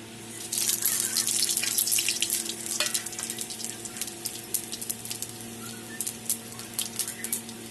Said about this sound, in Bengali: সোমবারে দিয়ে দিলাম 2টা শুকনো লঙ্কা আর মৌরি।